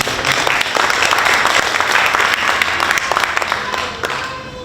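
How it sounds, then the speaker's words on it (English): A historical society meeting audience in a former Masonic lodge claps for volunteers honored for Christmas tree work; dense, fairly loud applause holds steady, then thins toward the end. "give them a round of applause"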